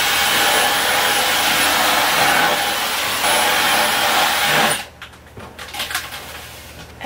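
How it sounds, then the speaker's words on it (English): A hair dryer warming wallpaper glue in a small apartment blows a loud, steady whooshing roar for several seconds, then cuts off, followed by a few light clatters and handling noises. "You want to warm up the glue, so get your hair dryer"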